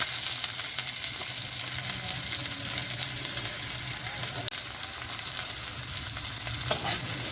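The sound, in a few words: onions frying in hot oil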